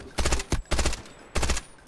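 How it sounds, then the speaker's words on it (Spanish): Rapid automatic gunfire in the video game Delta Force, loud close bursts in three separate volleys with short gaps between them. "lo están cagando a tiros ese vato"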